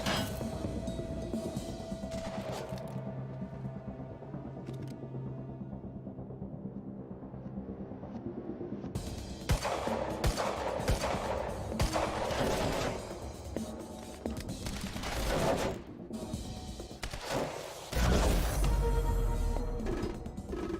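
Sniper gunfire rings out during a firefight in the video game Quantum Break, with scattered sharp shots and bursts standing out against steady game background noise, fairly loud and continuous.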